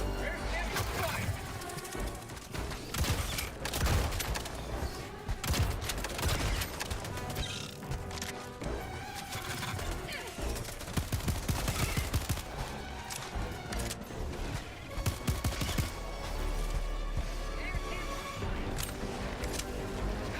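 Rapid, sustained gunfire in the shooter Helldivers 2, dense bursts of automatic shots and impacts with explosions mixed in over several seconds, loud and close, with a player talking over the game noise.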